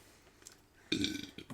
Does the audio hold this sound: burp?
yes